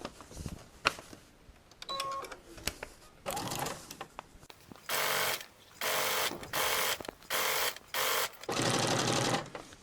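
Sewing machine stitching the side of a tote bag made from coffee packets, several short bursts of fast stitching separated by pauses, ending in a longer run, with a few handling clicks between.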